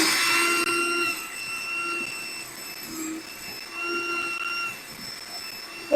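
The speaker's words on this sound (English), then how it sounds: "So that is our 2 onions chopped up." Two onions whirl in an electric food chopper, its motor giving a steady, close whining hum with shifting pitch that runs throughout without any talking.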